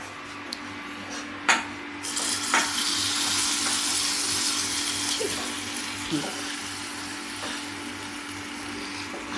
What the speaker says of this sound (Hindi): अब चलिए हम तड़का लगा देते हैं